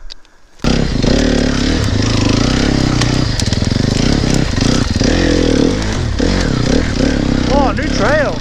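An enduro dirt bike rides a trail with its engine droning loud and close and revving up and down as it goes, with a rider talking over it now and then.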